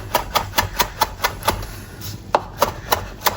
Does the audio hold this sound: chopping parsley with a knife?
yes